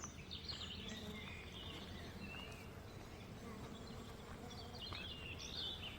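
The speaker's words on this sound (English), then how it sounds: "I can actually hear the wind blowing through these small trees" Breeze rustling through small trees in an old Kent village in spring, a steady soft airy hiss with faint insect-like buzzing and distant bird chirps throughout.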